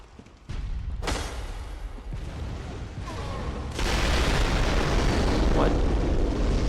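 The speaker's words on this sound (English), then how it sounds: "Oh, cannon. I forgot that cannons existed in this." Cannon fire in Bloodborne, heavy booming blasts with a sudden loud onset and a sustained rumbling roar, under occasional talk.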